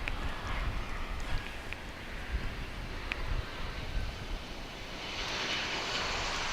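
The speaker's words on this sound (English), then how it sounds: "It's going to be Frontier Flight 2133." A Frontier Airlines jet at Dallas Fort Worth airport gives off a steady broad engine roar that swells into a brighter hissing whine near the end, heard from a distance outdoors.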